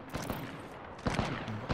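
Gunfire in a ranked shooter video game, a few sharp bursts of shots in quick succession, loud and close.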